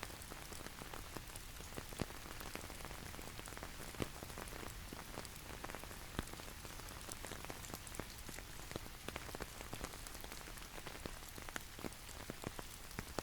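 Steady rain falls on surfaces all around in Kruger National Park, a dense, even patter of drops with no voices.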